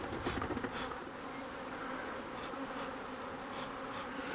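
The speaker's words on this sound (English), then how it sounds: "There's a couple of bees still in here." Bees buzz steadily around a wooden swarm box, a dense, continuous drone from several insects nearby, fairly quiet and alone without speech.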